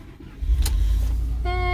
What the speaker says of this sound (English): so I'm going to turn on the car.